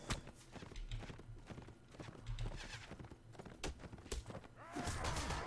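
Horse hooves clip-clopping in the Mount & Blade Warband video game, a steady run of hoof thuds amid game noise with a horse whinny near the end, no talk over it.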